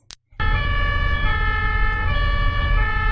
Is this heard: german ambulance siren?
yes